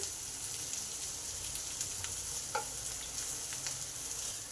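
Kakrol, or spiny gourd, fries in a pan while being stirred. A steady sizzle carries through the whole clip, with soft scraping from the stirring and one brief clink partway through. No one speaks.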